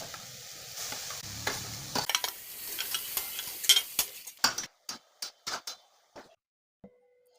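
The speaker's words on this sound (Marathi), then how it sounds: "त्यात किसलेला गाजर घाला आणि हलका रंग बदलेपर्यंत परता." Grated carrot sautéing in ghee in a pan for carrot halwa: a soft sizzle with the scrape and tap of stirring, then a run of sharp spoon clicks against the pan, fairly close and quiet.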